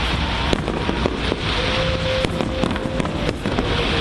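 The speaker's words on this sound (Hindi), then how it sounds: "इतनी जोरदार आतिशबाजी शुरू हुई कि ऐसा लगा जैसे दिवाली मनाई जा रही थी।" A loud fireworks display at a celebration, with rapid crackling bursts and pops overlapping continuously, a few sharper bangs standing out over a constant fizzing roar.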